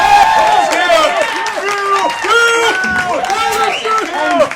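A full-house crowd at a live jazz concert cheers and shouts, a dense, loud wall of overlapping voices that carries on without a break.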